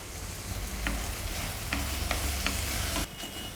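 Dried red chillies roast with their stems still on in hot oil, giving a steady close sizzle and frying hiss broken by a few sharp pops and stirring clicks.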